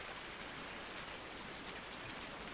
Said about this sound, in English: We got some rain